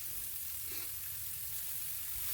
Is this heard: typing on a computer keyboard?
no